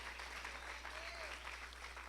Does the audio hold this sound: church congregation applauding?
yes